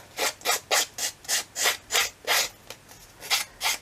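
A hand file rasping back and forth on a workpiece, about a dozen steady rhythmic scraping strokes, close and clear with no voices.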